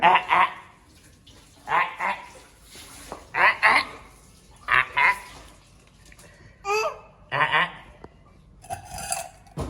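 A child splashes bath water with the hands in irregular bursts of slapping and sloshing, close by, with a toy fish in the water and an adult talking and babbling over the splashes.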